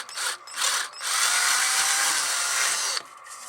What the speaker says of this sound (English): So I'll drill a hole in here.